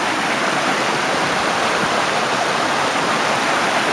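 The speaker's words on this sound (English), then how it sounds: "Might as well get this waterfall in." Steady waterfall roar at a scenic attraction, a continuous broadband rush of falling water, close and loud, unbroken with no voices.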